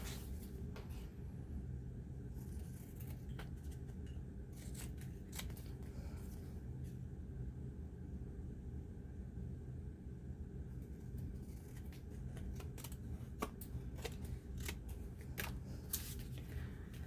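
Scissors trimming woven paper tags even with an index card, a series of quiet crisp snips that are irregular and more frequent toward the end, over a constant low background rumble.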